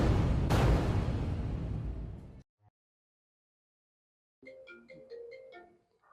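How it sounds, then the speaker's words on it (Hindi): A phone ringtone plays a short, bright melodic tone pattern after a loud rushing burst and a moment of silence, clear and close with no talk over it. "किसका फोन आ गया?"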